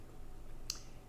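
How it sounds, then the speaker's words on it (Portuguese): A single sharp click of an Enter key pressed on a computer keyboard, brief and fairly close in a quiet room. "Então vou dar um enter"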